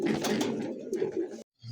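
A large white pigeon coos in a brief, soft, throaty burst lasting just over a second, followed by a short silence and a faint low tone.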